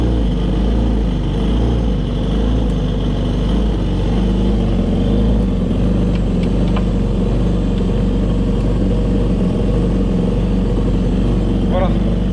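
A jet ski engine idles steadily while being winterized, a continuous low rumbling drone that stays constant and fairly loud throughout, without noticeable revving.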